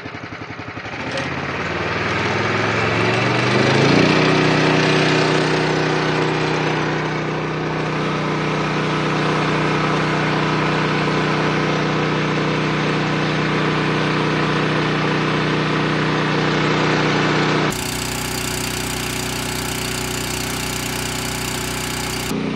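A fire pump engine runs steadily after its throttle is set for the desired pressure, a loud sustained mechanical drone with a constant hum and no pauses, holding level throughout with no talking.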